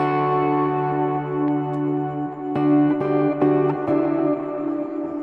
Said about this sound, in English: just the guitar and just the regular kind of reverbs